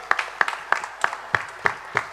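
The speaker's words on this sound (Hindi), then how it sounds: "तालियां बजाइए उनके लिए" Sparse applause at a tribute concert greets an accompanying musician, a few distinct hand claps falling at an even, steady pace, fairly close and moderate.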